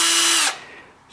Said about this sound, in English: I am able to put it on my drill, and it is not a 1/2 inch drill